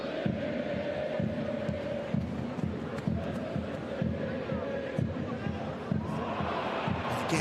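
A home crowd at a women's Frauen-Bundesliga football match chants in a steady, rhythmic pulse of beats and voices that carries on throughout, while a commentator talks over it.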